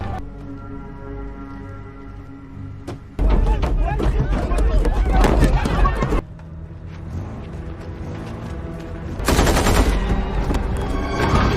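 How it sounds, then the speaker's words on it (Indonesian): Bursts of automatic gunfire and rapid shots ring out during a film firefight between rebels and fleeing diplomats in an African civil war, loud and dense, broken by a quieter rumbling stretch, with faint voices and commotion mixed in. "mengundang perhatian kelompok pemberontak dan baku tembak pun terjadi"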